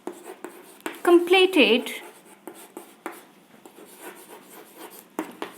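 A teacher writes a sentence on a classroom board, with scratchy marker strokes at close range while her voice talks over the writing.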